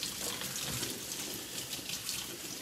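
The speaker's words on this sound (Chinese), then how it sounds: "这个肉有点血水，我们快把它洗一下比较好。" Tap water runs steadily into a sink as raw pork slices are rinsed, a continuous soft splashing hiss at low volume with no voices.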